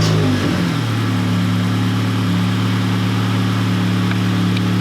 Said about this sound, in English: it's idling great.